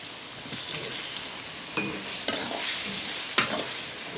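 Small shrimp frying in a pan and being stirred, a steady close sizzle broken by a few sharp scraping strokes of the spoon, with no voices.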